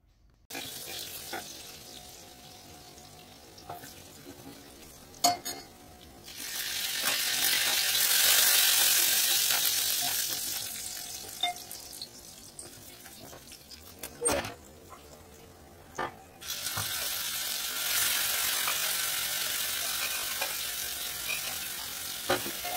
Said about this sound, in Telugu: మనం ఇలా కలుపుకొని ఉంచుకున్న గోంగూర శనగపప్పుని దీనిలో వేసుకొని మరి కొంచెం సేపు ఉడికించుకోవాలి